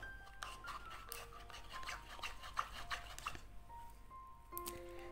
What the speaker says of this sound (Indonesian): Setelah itu kita aduk-aduk.